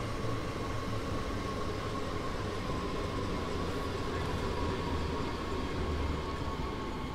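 An S-Bahn train on the Rhein-Ruhr Osten S7 line in Train Sim World pulls into the station, a steady, loud rumbling rail roar with a sustained hum, constant and close throughout with no voices.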